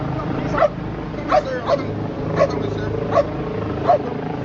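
A police dog barks near a building during a search for trespassers, giving about six sharp, evenly spaced barks and yips over a few seconds, fairly close, with low background noise.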